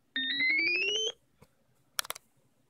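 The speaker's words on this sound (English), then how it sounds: "This also sounds bell-like." A bell-like additive-synthesis tone made from a fundamental and multiples of 7, sliding slightly upward for about a second, followed by a few faint clicks and a brief burst of bright noise.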